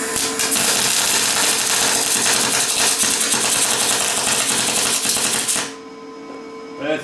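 A Lincoln 210MP MIG welder running in short-circuit transfer crackles with a loud, rapid buzzing sputter for about five seconds, then cuts off to a quiet hum.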